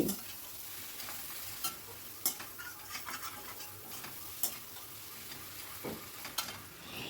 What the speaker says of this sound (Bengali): দিয়ে আবারও সব কিছু ভালো করে মিশিয়ে নিচ্ছি অনবরত কিন্তু নাড়তে হবে এখনও গ্যাসের ফ্লেমটা হাইতেই রেখেছি